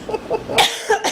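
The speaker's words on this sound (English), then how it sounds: "Let me clear my throat." Several short throaty bursts of a person clearing their throat, loud and close, with no other speech.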